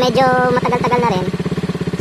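A Rusi Raider 150 motorcycle with a noisy muffler runs close by with a steady, low, throbbing putter. Someone talks over it at first, then the pulsing exhaust beat stands out alone.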